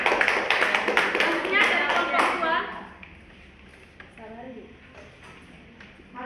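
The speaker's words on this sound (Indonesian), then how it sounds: "Kita beri tepuk tangan kepada" A classroom group of students claps for the first presenting group, a brisk, dense burst lasting about three seconds before dying away, followed by a teacher speaking.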